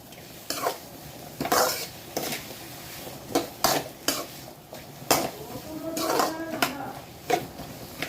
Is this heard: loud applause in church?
no